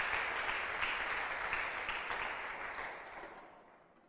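A church congregation applauding together, a dense, steady wash of many hands clapping that holds strong and then gradually fades toward the end, with no talking over it.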